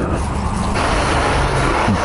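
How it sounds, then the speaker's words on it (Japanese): Dump trucks working at a Linear Chuo Shinkansen construction site, heavy diesel engines rumbling steadily up close with a few brief hisses and clanks. "ちょっとダンプだらけで"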